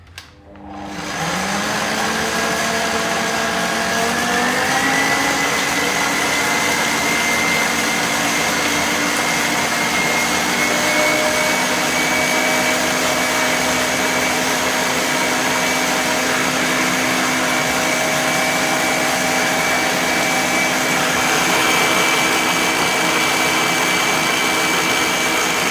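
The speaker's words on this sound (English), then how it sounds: "So I'm gonna turn the mixer on." Electric mixer whirring steadily on high speed as it beats eggs and sugar for a Spanish almond tart batter, loud and close, with the motor pitch rising as it spins up and then holding constant.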